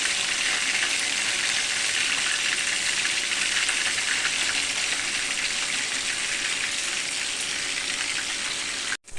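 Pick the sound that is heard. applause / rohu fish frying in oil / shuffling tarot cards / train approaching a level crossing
rohu fish frying in oil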